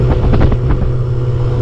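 A motorcycle engine runs on a ride from Casablanca to Azemmour in Morocco, a loud, steady drone blended with heavy wind buffeting throughout, with no talk.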